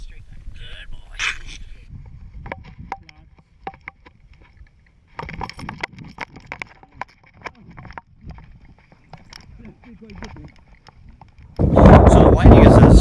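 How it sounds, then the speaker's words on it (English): A police K9 dog whining from stress during a sheriff's decoy training exercise, with short yips and whimpers among handling and movement noises, and a loud burst of noise at the end. "So the whining is stress related."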